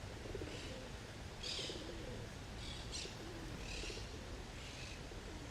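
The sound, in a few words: birds calling in trees after storm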